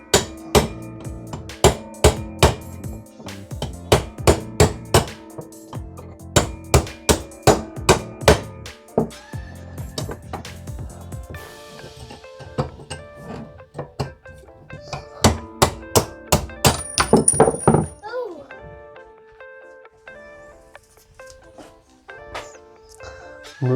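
A steel punch is struck repeatedly with a hammer to drive out the retaining spring of a Hi-Lift jack, giving sharp metallic blows in quick irregular bursts, close by, then a quieter stretch of faint rattles.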